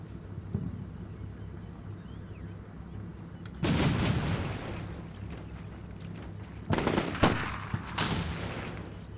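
XM25 Punisher airburst weapon firing during a military graduation training exercise near the Black Sea, with two loud outdoor blasts and rumbling echo a few seconds apart over steady wind noise.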